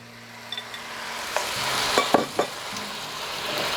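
Venison cooks in a skillet with a low, steady sizzle, marked by a few sharp metallic clinks and scrapes of stirring near the middle.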